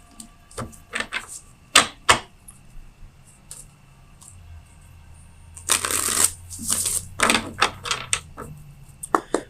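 Tarot cards shuffled by hand for a reading, a run of crisp riffling bursts and taps with a short break, then a longer, denser shuffle near and clear with no talk.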